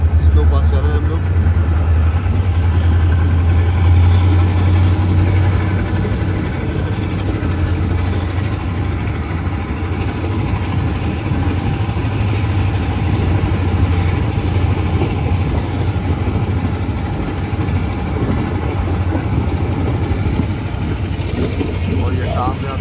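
A train rolls slowly through a railway station with a low, steady engine drone and rumbling carriages heard from on board, while a person talks over the noise.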